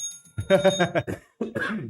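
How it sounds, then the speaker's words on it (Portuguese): A small tabletop bell is struck during a brain-training card game, giving a single bright ring that fades under nearby voices. People talk and murmur close by. "Quem montar primeiro vai bater o sino"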